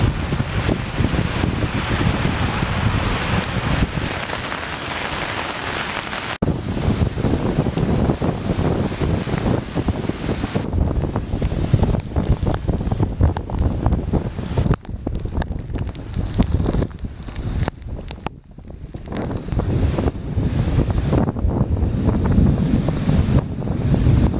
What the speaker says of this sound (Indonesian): Sekarang kami di Pantai Munu.